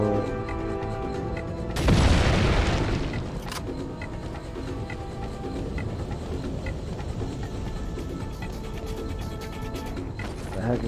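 A TNT explosion in Resident Evil 4 bursts out as a loud, broad boom that rumbles and decays over a couple of seconds above steady game music and ambience.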